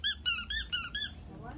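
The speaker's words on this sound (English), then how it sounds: "Squeaky lemon." A squeaky lemon toy gives five quick, bright squeaks in an even rhythm, close and clear, then falls quiet.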